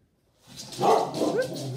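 A pet dog barks at the neighbours, a few close, fairly loud barks and yelps after a short silence.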